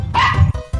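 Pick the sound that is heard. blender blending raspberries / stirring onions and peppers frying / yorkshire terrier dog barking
yorkshire terrier dog barking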